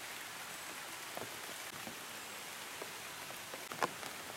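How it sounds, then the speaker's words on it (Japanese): Steady rain falls on a mountain trail descending Mount Yotei in Hokkaido, a continuous hiss with scattered close drops tapping nearby surfaces, no voices. "また雨です。"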